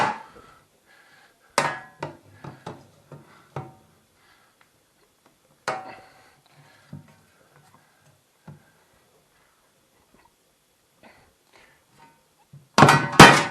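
A crowbar prying out the legs of a laundry room sink, giving scattered hollow thunks and metallic knocks, with sharp isolated impacts separated by long quiet gaps and a louder cluster at the end.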